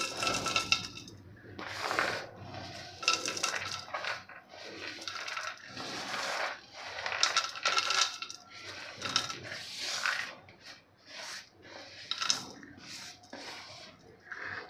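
Roasted peanuts, coconut, sesame seeds and coriander seeds tumble into a mixer jar for bhindi masala, a run of dry rattling clinks and scrapes repeating in short bursts, close and fairly quiet with no talk.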